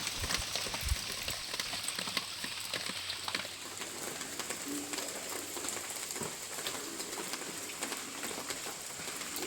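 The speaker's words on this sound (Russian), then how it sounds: "У нас пошел дождь" Rain begins falling outside a run-down village house under renovation, a steady fine patter of drops on surfaces with scattered sharper taps and a faint bird in the background, quiet and continuous.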